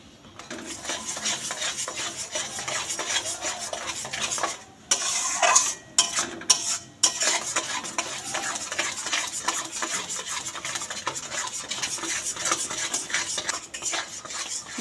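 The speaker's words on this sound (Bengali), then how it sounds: "দশ থেকে 15 মিনিট আমটাকে এভাবে নেড়ে শুকনো শুকনো করে নিতে হবে।" A spoon scrapes and stirs a mango and sugar mixture in a pan for mango barfi, a continuous busy clatter and rub of utensil on metal, with a brief pause midway and no talking.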